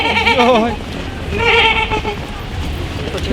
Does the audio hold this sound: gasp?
no